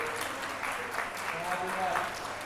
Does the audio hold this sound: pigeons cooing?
no